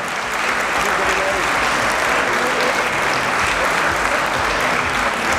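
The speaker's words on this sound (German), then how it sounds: "So, ein bisschen Applaus hier für unseren Gesamtsieger." Sustained applause from an audience at a German junior men's physique bodybuilding championship, honouring the overall winner; dense, steady clapping fills the hall at full volume throughout.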